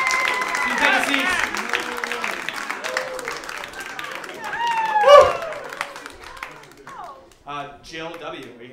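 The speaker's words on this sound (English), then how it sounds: "Give her a big round of applause." A comedy club audience at a live stand-up show claps for a performer named Tori, the applause fairly loud and mixed with voices and some talking, then thinning out toward the end.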